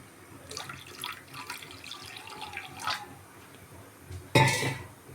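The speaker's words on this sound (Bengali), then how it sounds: "তার জন্য আমি দিয়ে দিলাম 2 বাটি মতো জল।" About two bowls of water poured into a cooking pot for a homemade sweet: a few splashing gushes and trickles close by, ending in a louder clatter of metal against the pot.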